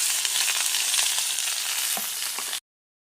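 Food sizzles steadily in hot oil over a clay stove with a briskly burning fire, a dense continuous crackle with a few stirring scrapes, stopping abruptly before the end.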